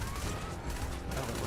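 A loud, dense crackle of enemy gunfire in Starfield: Shattered Space, a short continuous burst of overlapping shots close up.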